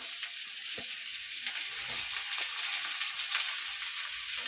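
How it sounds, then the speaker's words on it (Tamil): Tomatoes frying in a pan as the base of a banana fish curry, a steady close sizzle with soft scattered pops and crackles throughout. "சரி, இப்போ தக்காளி போடுறேன்."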